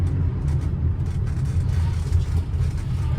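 A classic Austin Allegro drives along the road, its engine making a steady, loud low rumble with road noise. The drone stays continuous and close, with no voices over it.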